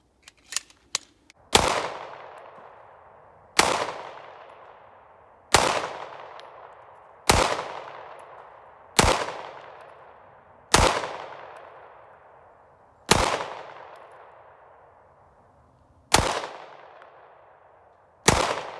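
Glock 19 Gen 4 and Gen 5 pistols fired in a slow, deliberate string of about ten loud, sharp gunshots, each followed by a fading echo, with a couple of faint clicks before the first shot.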